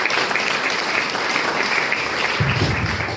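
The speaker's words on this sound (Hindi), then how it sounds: "जोरदार तालियां होनी चाहिए सबके साथ" An audience applauds loudly and steadily throughout, a dense wash of hand claps at a business plan meeting, with a slightly heavier patch near the end.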